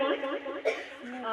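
A person with a cough lets out a short, throaty cough with a brief burst near the middle, close to the microphone, over a voiced rasp.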